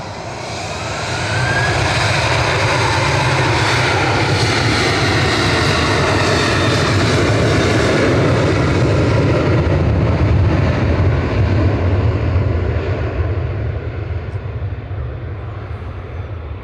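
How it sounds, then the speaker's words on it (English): A Ryanair jet airliner at Manchester Airport thunders loudly, a broad sustained engine roar that swells in after a second and holds steady for the full length, heard alone without voices. "Very loud, the Ryanair."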